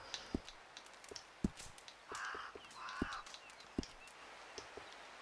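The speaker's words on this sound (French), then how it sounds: "Corbeau." Crow caws twice in the Red Dead Redemption 2 video game, moderately close, amid scattered sharp clicks and quiet outdoor ambience.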